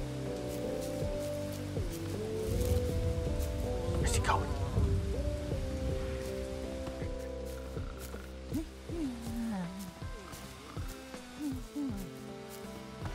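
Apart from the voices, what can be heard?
rain in video game Bugsnax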